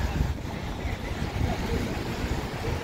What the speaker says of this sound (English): And the wind is picking up.